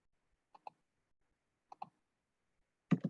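Computer keyboard keys pressed in sparse pairs, soft close clicks spaced about a second apart in a quiet room, ending with a slightly louder double tap.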